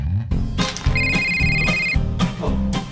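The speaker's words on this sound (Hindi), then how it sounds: "तू मुझे फोन क्यों कर रहा है?" A mobile phone rings with a repeated electronic ringtone, loud and close, its tonal melody played over background music and other sounds.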